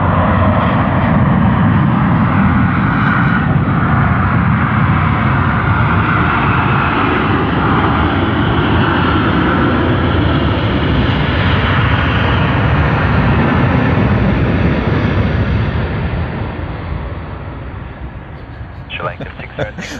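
A passenger aircraft roars loudly and steadily close by at Sydney Airport, the broad engine rumble filling the air for most of the stretch before fading toward the end.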